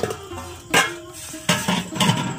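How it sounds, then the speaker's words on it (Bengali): A lid is lifted off a covered pan where stuffed palm-pitha parcels wrapped in banana leaves are frying, giving a few close metallic knocks and scrapes between soft, low crackling. "5 মিনিট হয়ে গেছে, এবার ঢাকাটা তুলে দেব।"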